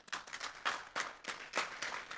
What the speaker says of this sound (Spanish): Denle un fuerte aplauso pues al Señor